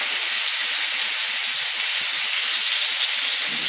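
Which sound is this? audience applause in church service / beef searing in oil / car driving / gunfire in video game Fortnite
beef searing in oil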